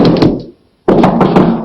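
Knocking on a door in a 1943 adventure serial: two loud bursts of rapid, heavy knocks close by, separated by a short silent pause.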